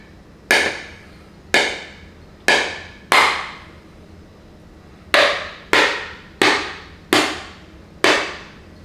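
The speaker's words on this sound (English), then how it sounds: "I feel like breaking it with the hammer just to make the water come out faster" Hammer blows against a water-filled container being cracked open, nine sharp ringing strikes in two uneven clusters, each bright hit decaying quickly, close and loud with no talking.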